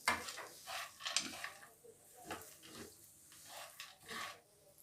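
Roasted dry fruits stirred and mixed in a pan for a dates roll, soft intermittent scraping and rustling strokes of a spoon, faint and close, in slow uneven rhythm.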